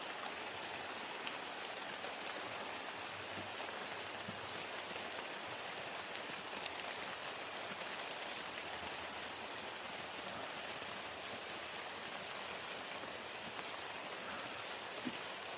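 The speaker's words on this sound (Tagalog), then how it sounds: "Basang-basa na tayo sa ulan eh." Rain falling steadily in a forest, a constant soft hiss of drops on foliage and ground, with a few faint louder drips and no talking.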